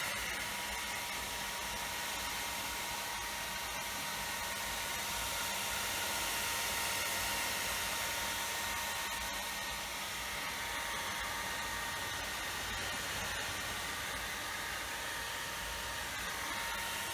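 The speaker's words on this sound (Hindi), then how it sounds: "इसका जो कूलिंग सिस्टम है, इसका जो फैन है ये चालू हो जाता है और एयर इनटेक शुरू हो जाता है" A Suzuki Gixxer 250 motorcycle's engine cooling fan runs, a steady, loud broadband whoosh with a faint tonal hum that holds evenly throughout with no voices.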